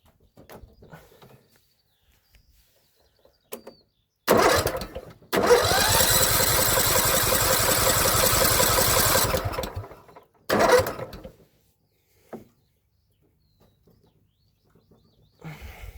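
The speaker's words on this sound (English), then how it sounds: "we'll crank it through a bit, and then we will try again" John Deere L110 lawn tractor engine, after sitting three years, turns over in a short burst, catches and runs steadily for about four seconds, then cuts out and cranks briefly once more, with quiet gaps and faint bird chirps between.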